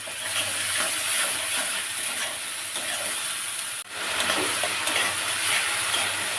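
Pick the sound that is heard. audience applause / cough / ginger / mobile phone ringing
ginger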